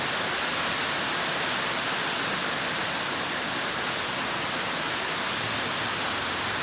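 Steady, heavy rain falling around a small Georgia town, a continuous broadband hiss close by with no pauses and no voices.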